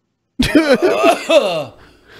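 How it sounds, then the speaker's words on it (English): A man coughs several times in quick, raspy bursts close to the mic, breathy and strained, trailing off into a wheeze. "I'm not even done coughing this one up yet"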